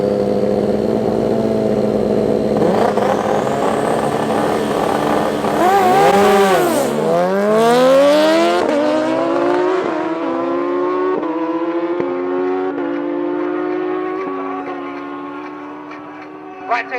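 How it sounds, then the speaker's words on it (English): Turbocharged drag bike making a loud run at a club drag racing event on a raceway strip, engine rising in pitch through rapid gear changes and fading into the distance, with an announcer's voice underneath. "Next up is Sally against Bjorn on the turbo bike"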